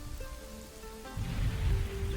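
Steady wash of rain over a medieval village in the city-building game Kingdoms and Castles, a soft broadband hiss that swells louder in the second half, with faint tonal music threading underneath.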